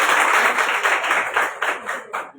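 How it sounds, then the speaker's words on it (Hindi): Applause at a district-level higher secondary school event, a dense burst of many hands clapping that stays steady and close for a couple of seconds before tapering off at the end. "ताली ताली"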